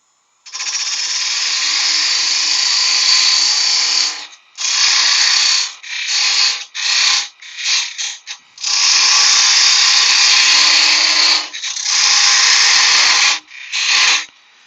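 A parting tool on a wood lathe cuts off a waste piece from a wooden cocktail stick holder, giving loud, harsh scraping bursts that stop and restart several times, with short breaks between cuts.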